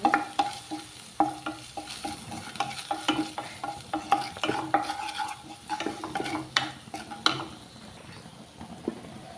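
A chicken liver curry base with turmeric fries in a pan with a soft sizzle, under fairly quiet, uneven stirring clinks and scrapes of a utensil against the pan.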